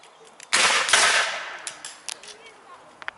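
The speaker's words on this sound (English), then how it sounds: "now instead of that one blast, now we've got sporadic fire to be suppressed" Sporadic musket fire along a Civil War reenactment firing line: a loud, close volley, a second heavy report, then scattered fainter shots popping irregularly in the distance.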